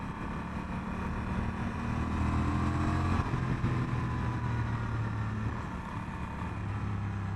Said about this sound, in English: Really nice motorcycle.